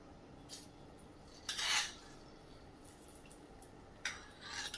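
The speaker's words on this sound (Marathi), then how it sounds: "शिल्लक राहिलेला तडका चटणीत टाकूया। अशा पद्धतीने व्यवस्थित मिक्स करून घ्यायचंय।" A spoon clinks and scrapes against a bowl as leftover tempering of oil, asafoetida and curry leaves is mixed into chutney, a few short quiet bursts over a faint background hiss.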